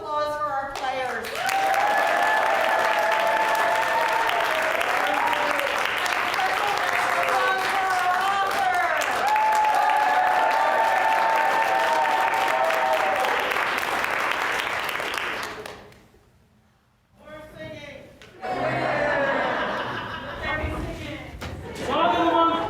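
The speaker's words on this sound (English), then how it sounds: "Another round of applause for our players." An audience at a winter festival breaks into loud, sustained applause for the players, dense clapping that fades out briefly before another burst of clapping rises near the end.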